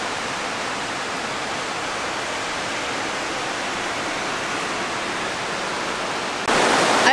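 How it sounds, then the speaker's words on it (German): Water pouring and dripping down the rock walls of the narrow Eistobel gorge near a waterfall in the Allgäu, a steady dense rushing hiss that stays loud and even, swelling brighter near the end. "Schaut mal, wie es hier tropft von den Wänden."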